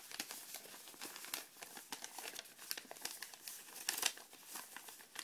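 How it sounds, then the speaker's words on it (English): Origami paper is folded in half again, giving close crinkling and crumpling with sharp papery crackles and rustles, a denser crisp burst near the end, and no voices. "And then you fold it in half again."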